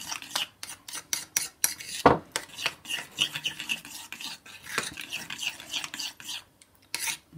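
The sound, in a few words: mixing chocolate with Espelette pepper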